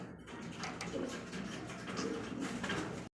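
Pigeons coo softly at a pigeon sale, low, throaty murmuring calls repeating through the clip under a faint background hum, fairly quiet and close.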